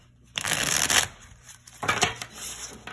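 A 100% plastic Rider tarot card deck is shuffled in two quick riffling bursts, close and crisp, separated by a short pause.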